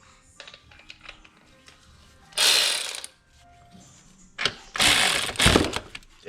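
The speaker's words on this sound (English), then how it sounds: "This ratchet got some balls, y'all" Ratchet turning 15 mm nuts on a GM 3800 alternator: two loud bursts of rapid clicking, close up, separated by quieter tool clinks and movement.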